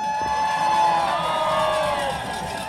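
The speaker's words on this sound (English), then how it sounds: "Lively crowd here today." Rally crowd at a march for Gaza cheering and whooping loudly, with sustained shouts and high whoops rising over a dense, continuous roar of voices close by.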